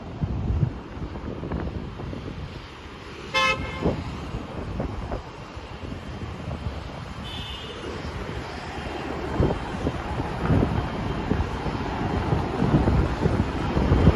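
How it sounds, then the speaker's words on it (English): Constant low rumbling wind buffeting the microphone on a Manhattan street, strong and steady throughout, with a faint distant aircraft drone beneath. "it's windy as all heck out here"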